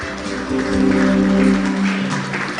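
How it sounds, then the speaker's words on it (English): Applause from a live-event audience for the First Lady of Ogun State at an International Breweries Plc. gathering, broad clapping swelling mid-way over a sustained musical tone and PA hum. "Please let's put our hands together one more time for the First Lady of Ogun State."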